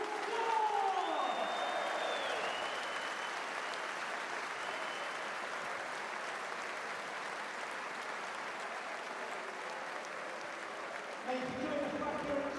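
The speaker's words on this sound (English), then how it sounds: "Please give it a huge round of applause." Stadium crowd at Turf Moor football ground applauding steadily, a broad loud wash of clapping and crowd noise sustained throughout, with a PA announcer's voice heard over it.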